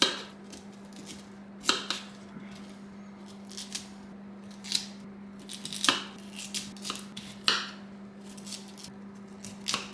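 Knife cutting cauliflower into smaller pieces on a board, giving a series of sharp, irregular crunchy cuts, close and fairly loud, over a steady low hum with no talking.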